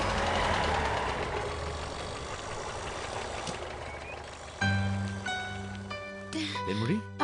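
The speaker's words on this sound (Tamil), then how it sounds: "அண்ணாமலை, வண்டி எடுத்து" A vehicle engine idles with a low steady rumble through the clip, joined by a louder tonal hum and horn-like sounds in the final seconds.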